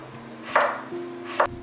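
Two sharp knife chops on a cutting board, leftover fridge vegetables being cut for a halibut poaching broth, with a low hum from a kitchen appliance and no talking.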